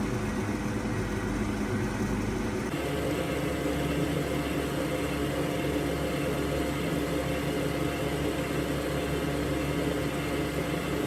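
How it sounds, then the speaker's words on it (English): Electric mixer beating heavy cream for a burnt cheesecake, a steady whirring motor hum that shifts in pitch early on and then runs on evenly and continuously. "Now I'm going to mix the heavy cream"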